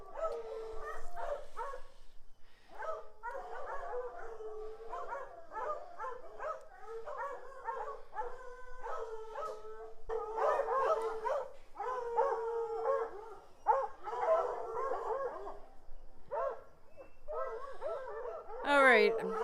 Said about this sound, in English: The dogs are going crazy because the horses are running back and forth.